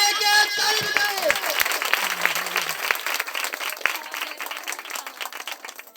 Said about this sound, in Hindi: ताली बजाओ सब जन इनके लिए।